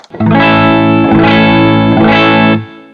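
A loud, sustained distorted electric guitar chord through a Behringer FCV100 volume pedal rings out, swelling slightly twice before fading away.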